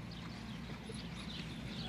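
Faint, steady clip-clop of a horse's hooves on a racetrack backstretch, with low rumbling background noise, quiet and somewhat distant.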